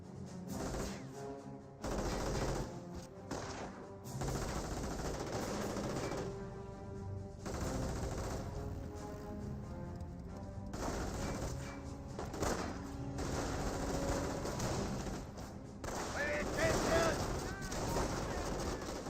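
Rifle fire from a G43 mixed with other gunfire and battle noise in the World War II strategy game Company of Heroes, sustained and dense throughout, with a commentator talking over it.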